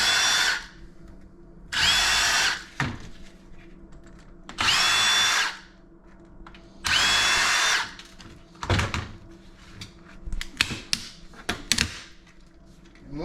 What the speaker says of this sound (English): So we'll just start by taking the screws out and taking the gun off.